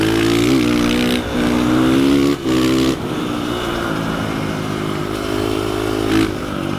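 A KTM 500 EXC-F dirt bike with an FMF exhaust being ridden, its engine droning loud and steady at close range with brief dips and surges in revs as it moves over wet ground.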